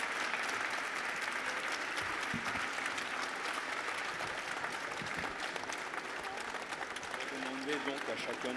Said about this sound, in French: On peut applaudir encore une fois nos héros